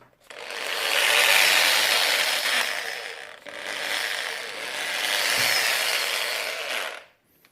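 A power tool drill whirs loudly in two long bursts with a brief pause between, the high hammering buzz of impact mode running steadily.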